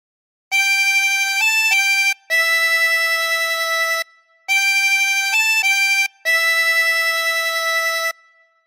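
A chromatic harmonica plays a short phrase of Silent Night, clear sustained reedy notes with small note changes, repeated twice, close and alone with brief breaths of silence between.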